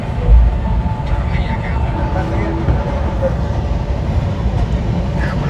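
Barauni–New Delhi Clone Express overtaking near Ghaziabad, a steady loud rumble of train wheels and carriages rolling past continuously throughout, with voices faintly present.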